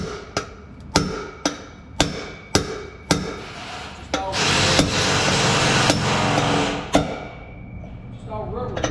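Sharp hammer blows ring out during starter and brake repair on a 2015 Ford F450: a run of evenly spaced metallic strikes, then a loud sustained rushing burst, then a few more close knocks.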